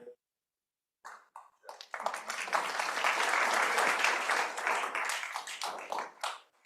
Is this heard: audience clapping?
yes